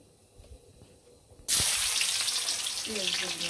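Cumin seeds tempered in hot oil for a Bengali chicken dish give a sudden loud burst of sizzling frying after a quiet start, then a steady close crackle.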